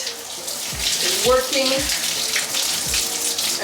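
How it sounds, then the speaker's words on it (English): Water runs steadily over the scalp while braids are washed, the water a little too hot; a continuous splashing flow fills the clip, with a quiet voice speaking briefly underneath. "I'm just letting the water do its thing, run throughout my scalp"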